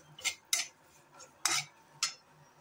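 A spoon stirs dry fruits and raisins roasting in a pan for ukadiche modak, making about five sharp metallic clinks and scrapes at an uneven pace, close and fairly quiet, with no talk.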